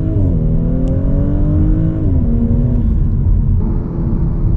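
A 2023 Audi A5 launching hard on launch control, its engine note climbing through the revs with a steady heavy rumble and brief dips at gear shifts, loud and close from inside the cabin.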